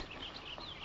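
A fighting cock in a Philippine camp clucks and chirps in short, bright bursts. The calls sit over a steady, fairly loud background with no speech.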